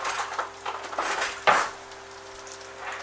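A teaspoon clinks against dishes in a kitchen while corn fritters are being made, a few light clatters followed by one sharper knock, then quiet.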